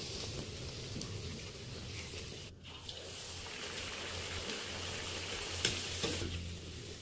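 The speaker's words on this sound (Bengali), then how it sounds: "এইভাবে বন্ধুরা একটা একটা করে আমি কচুরি ভেজে দেবো।" Pea-stuffed kachori deep-fry one at a time in a wok of hot oil, giving a steady, dense sizzle and crackle with occasional sharper pops, close and continuous, with no voices.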